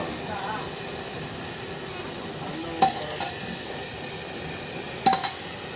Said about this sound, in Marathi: याला तळून घ्यायचं आहे ना हो